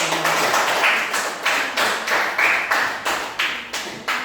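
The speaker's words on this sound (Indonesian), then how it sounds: "Oke, tepuk tangan dulu." A class applauding a group presentation with about nine sharp, evenly spaced claps in unison, loud and close, in a steady beat and without voices.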